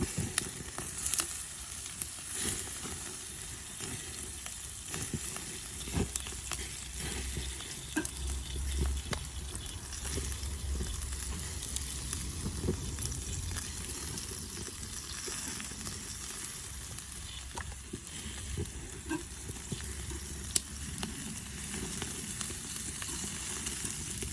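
Food sizzles and crackles on an outdoor barbecue grill on a very hot day, a continuous close sizzle broken by scattered pops and a few scraping stirs, with no talking.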